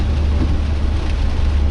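Steady rain falls outdoors, a loud, continuous wash of noise with a deep rumbling undertone and no voices.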